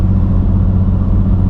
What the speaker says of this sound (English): Will and his junker drag truck.